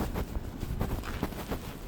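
Cold wind gusting outdoors in a snowy place, a steady low rumble of wind buffeting the microphone with irregular louder gusts throughout.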